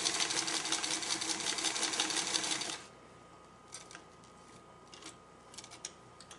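A sewing machine runs steadily while stitching a curved patchwork quilt seam, a dense close whir for about three seconds that stops abruptly, leaving quiet room tone with a few faint handling clicks.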